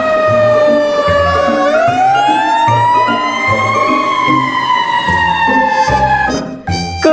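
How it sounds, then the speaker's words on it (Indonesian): A toy fire truck plays a loud electronic wailing siren, its tone sweeping slowly up and down, over a steady rapid beeping pattern that runs throughout, close and alone with no talking. "lihat teman-teman, di sini ada mobil pemadam kebakaran."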